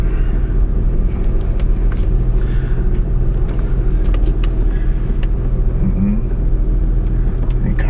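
A 2007 Honda Odyssey with an EVAP purge flow fault drives on the road, its steady low engine and tyre rumble filling the cabin at close range, with faint scattered noises over the drone.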